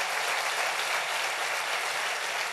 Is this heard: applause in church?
yes